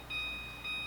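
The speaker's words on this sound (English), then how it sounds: "we're gonna put it in a set timer" A kitchen oven timer set while baking a cake gives two steady, high electronic beeps, each lasting about half a second, faint over a low background hum.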